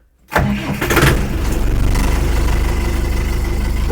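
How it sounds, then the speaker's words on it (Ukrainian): A Dongfeng 40 tractor with a Zen 490 diesel engine cranks and fires up after a short silence, catching with a loud burst and then settling into a steady, throbbing idle close by. "Запускаємо трактор"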